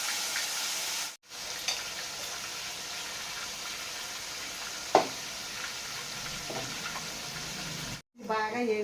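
Ginger and spices fry in a pan with a constant close sizzle, broken by a couple of brief silences and a sharp knock of a utensil, with no one speaking.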